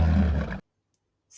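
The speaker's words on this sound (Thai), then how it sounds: "สิงโต" Lion roaring: a single short, loud, rough burst that cuts off abruptly into silence.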